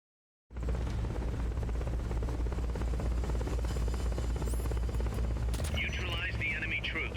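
Helicopter rotors in the video game Metal Gear Solid: Peace Walker give a steady, loud low drone throughout, with a burst of brighter game effects near the end.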